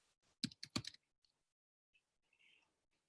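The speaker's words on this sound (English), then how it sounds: "You just simply type in an address." A few quick keystrokes on a computer keyboard while an address is entered, a tight cluster of clicks early, then sparse faint taps in a quiet room.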